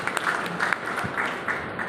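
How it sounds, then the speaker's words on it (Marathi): An audience at a school event claps for teachers in a brisk, fairly loud burst of many hands with a slightly uneven, pulsing texture, and no one speaks over it. "पण त्यांच्यासाठी टाळ्या"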